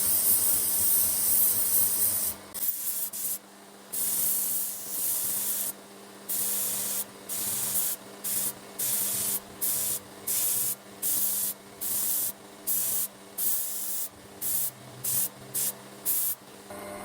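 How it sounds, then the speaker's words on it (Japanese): Belt sander grinding the spine of a Damascus steel kitchen knife, a loud steady hiss at first, then a rhythmic series of short sanding passes separated by brief pauses. "峰と顎を磨いていきます"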